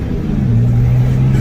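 A remapped BMW E90 325d diesel engine revs in a steady, loud rumble that swells slightly and holds, with a whirring turbo note layered on top and no voices.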